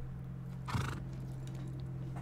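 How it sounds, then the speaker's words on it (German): A horse in the video game Rust, standing at a feeding trough, lets out a single short whinny over a quiet, steady background hum. "Ihr werdet fette Pferde."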